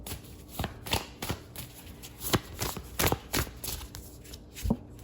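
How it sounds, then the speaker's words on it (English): Tarot cards shuffled in repeated riffling bursts, crisp and close, with brief pauses between each pass. "Give this a good shuffle."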